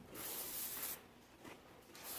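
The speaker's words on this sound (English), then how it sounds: "we're just going to spray like a little bit of liquid wrench in there" Short hissing bursts of Liquid Wrench penetrating oil sprayed onto parts of a big Holset turbo, a couple of close spurts separated by brief pauses, no voices.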